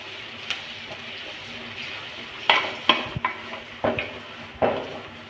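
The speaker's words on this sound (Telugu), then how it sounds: "ఆ కారం వేసేసుకొని బాగా ఆయిల్లో అయితే ఫ్రై చేసేసుకోవాలి కారాన్ని" Oil sizzles steadily while a spatula clinks and scrapes against a pan in several sharp, irregular strokes, close by, as ground chili paste fries in the oil.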